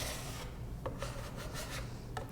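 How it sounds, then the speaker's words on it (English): A metal bench scraper is dragged across a pasta work table, producing soft, dry rasping strokes with a few brief scrapes standing out in the faint texture. "We tend to use a metal bench scraper to clean our tables."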